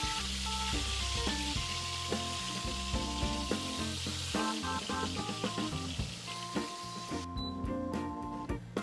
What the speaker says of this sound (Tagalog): habang nagpiprito na tayo doon ng galunggong sa likod